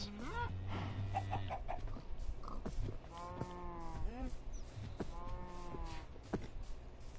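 Chickens in Minecraft Bedrock Edition clucking: short, pitched clucks in small clusters with brief gaps between them, moderately quiet against a light background.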